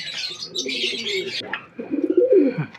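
A pair of Kaldoma pigeons coos up close: soft, rolling low coos in two phrases, with a thin higher chirping tone over the first phrase.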